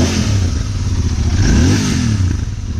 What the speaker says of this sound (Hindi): बहुत ही ज्यादा हेवी एग्जॉस्ट नोट है